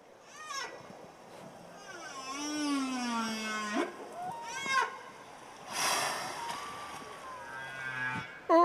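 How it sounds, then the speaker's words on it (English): Recorded whale calls played back as a calming sound, long sliding moans and rising tonal sweeps of moderate loudness with soft background noise, a few separate calls over about nine seconds. "I've got whale noises."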